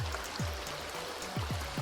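Rain in The Sims 2 video game, a steady, soft patter and wash of falling water, faint and continuous, with a few low thumps on top.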